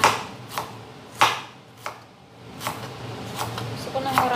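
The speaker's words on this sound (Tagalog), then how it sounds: "Pag-iwa tayo ng mga ingredients, guys." Ginger being chopped on a board for bamboo shoot adobo: a handful of crisp, separate knife strikes at an uneven pace, close and fairly quiet, with a voice talking in between.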